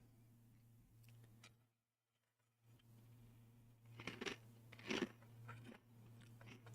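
Goldfish cinnamon roll graham crackers crunched and chewed in a few sharp, close bursts after a brief silence, over a steady low background hum.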